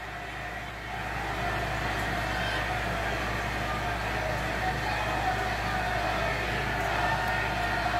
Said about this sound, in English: Excuse the air conditioner if you hear it in the background.